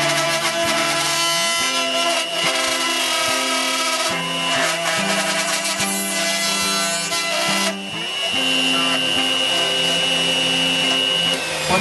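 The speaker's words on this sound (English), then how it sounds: "I set it up and route the pockets" An electric router cuts humbucker pickup pockets into a Les Paul style electric guitar body, giving a loud, steady, continuous whine with a slight shift in pitch partway through. No one speaks.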